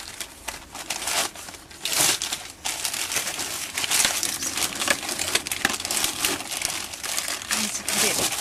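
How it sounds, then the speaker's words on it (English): A plastic bag crinkles and rustles as a seed tray of tomato sowings is slipped inside it, with uneven bursts of crackling handling noise, close by and continuous. "Stick them in a plastic bag like this."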